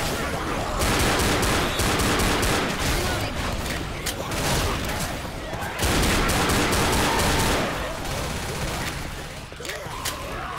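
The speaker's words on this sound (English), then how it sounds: "Everyone up, I have to shoot." Continuous, dense gunfire from the Left 4 Dead video game rattles throughout in rapid overlapping bursts, loud and sustained with only a brief dip near the end.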